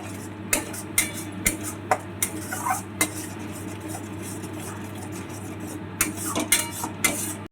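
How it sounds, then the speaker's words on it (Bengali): A spoon stirs spice paste with salt and turmeric in a pan for silver carp jhal, making a regular series of sharp metallic scrapes and taps over a low steady hum, then a short pause before the strokes resume. "এবার এই সমস্ত মশলাগুলোকে ভালো করে মিক্সড করে নেব।"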